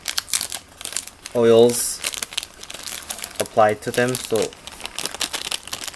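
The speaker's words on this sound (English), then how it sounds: "I just keep in this small plastic bag again with" A small plastic bag holding metal stitch markers crinkles in short, sharp bursts between stretches of a person talking, close and fairly loud.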